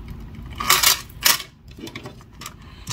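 A small metal chain for a phone case is handled up close, producing bright jingling clinks in two short bursts followed by lighter scattered rattles.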